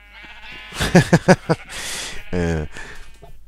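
Sheep bleat in Minecraft: four quick wavering bleats, then a longer, lower bleat, loud and close against faint game ambience.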